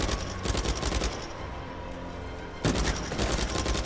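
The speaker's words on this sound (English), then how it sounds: "Who's shooting me?" Rapid bursts of gunfire from an Uncharted 4 shootout crackle loud and close, with dense repeated shots throughout and a fresh volley near the end.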